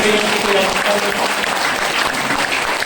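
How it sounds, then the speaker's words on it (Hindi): A crowd at a speech event claps loudly and continuously, a dense wash of hand claps from many people filling the whole stretch, with a faint voice or murmur underneath. "ताली बजाइए"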